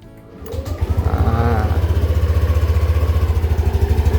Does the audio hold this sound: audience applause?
no